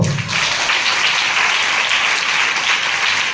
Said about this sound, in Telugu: చప్పట్లతో.